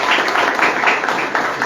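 Audience applause fills a hall at a police station event, with a dense, steady burst of many hands clapping close by for under two seconds.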